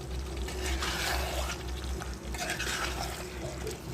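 Chicken with salt stirs and sizzles in a pan, a dense, steady frying hiss with soft scraping throughout, close and fairly loud.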